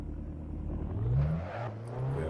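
Abarth 500 engine in Assetto Corsa at Knockhill, a short burst of mid-pitched acceleration rising then settling, moderately loud over a low drone.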